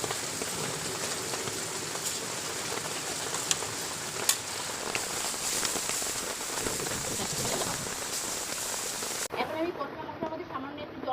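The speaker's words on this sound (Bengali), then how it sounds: "এই পর্যায়ে আমি নারিকেল কুড়ানো দিয়ে খুব ভালো করে কষিয়ে নেবো" Prawns fry with grated coconut in a pan, a dense, close crackling sizzle resembling rain that continues steadily with a few sharp pops, with a voice heard at times, before dropping away near the end.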